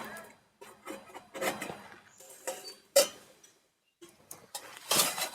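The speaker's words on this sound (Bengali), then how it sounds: "ঢাকনাটা তুলে দেখাচ্ছি কাঁচা কলাটা কতদূর সেদ্ধ হলো" A lid lifted off a pot of boiling raw banana gives scattered clinks and metallic knocks, with one sharp clank midway and a burst of hiss near the end, separated by brief quiet gaps.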